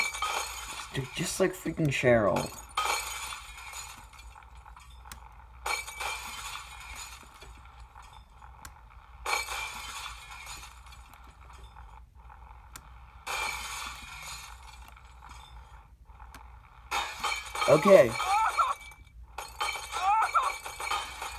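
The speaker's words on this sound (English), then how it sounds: "It looks like a freaking glass break that Mac and Mal can't handle." Glass shattering in the physics game Happy Wheels, several separate bursts of clinking and breaking spread across the clip, mixed with mechanical noises, under a man's occasional speech.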